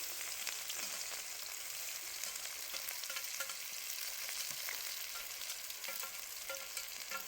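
Chopped onions sizzle and crackle steadily in hot mustard oil over a wood-fired stove, a dense, even frying hiss with small pops that stays loud and close throughout, with no voices.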